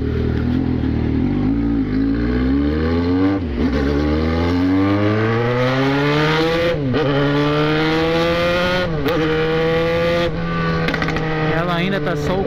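A Yamaha XJ motorcycle with a bare straight-pipe exhaust roars loudly and close, revving up from a rumbling idle through several climbing pulls with brief dips, harsh and continuous throughout.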